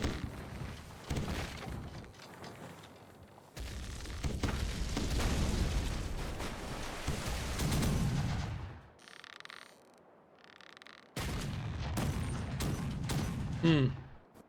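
Ship cannons fire a broadside in the pirate game Caribbean Legend, heavy booming blasts with rumbling tails, a quiet gap, then another burst of blasts and creaking timber, under game music.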